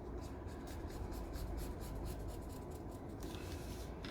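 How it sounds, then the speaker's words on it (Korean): A pen or marking tool scratches steadily across jacket fabric while drawing a seam line on the inner side, giving a soft, continuous rubbing close up with faint rhythmic strokes and no talk. "안쪽에서 완성선을 그려주십시오"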